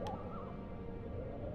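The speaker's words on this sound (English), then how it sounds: "That's an owl." An owl hoots in the dark horror game Amnesia: The Dark Descent, a single soft hoot near the start over a low, rumbling ambient drone, with no voices.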